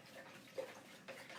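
Paintbrush swished in a container of water, soft faint sloshing with two small splashy pulses, quiet and close with no talking.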